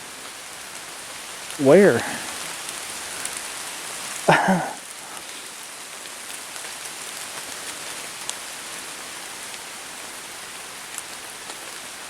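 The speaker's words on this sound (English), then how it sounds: "it's getting heavy, heavy rain" Heavy rain falls steadily on an outdoor surface at a state park, a constant broadband hiss of drops throughout, with two short bursts of talk from a person early on.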